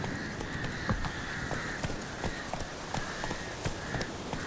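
Roach the horse gallops in The Witcher 3, hoofbeats thudding in a quick, uneven run beneath steady ambient game noise.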